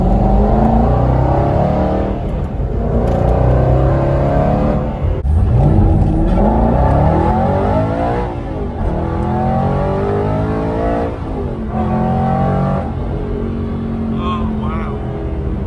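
Aston Martin Vantage GT8 V8 engine revs loudly and close up with traction control off. The roar rises and falls in repeated surges, and someone talks over the constant engine noise.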